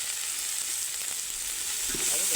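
Ginger garlic paste sizzles steadily in a hot pan on a stove, a continuous close frying hiss with faint stirring near the end and no talk.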